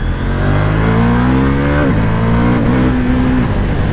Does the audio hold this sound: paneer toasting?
no